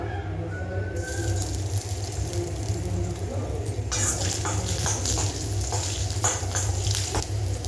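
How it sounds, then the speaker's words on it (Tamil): Chopped ginger sizzling in a generous amount of ghee as tempering for ven pongal, a steady frying hiss that brightens and grows crackly partway through, with talking over it. "இப்போ வந்து நம்ம வெண்பொங்கலுக்கு தாளிப்பு கொடுத்துடலாம் அதுக்கு நெய் கொஞ்சம் தாராளமாகவே சேர்த்துக்கோங்க"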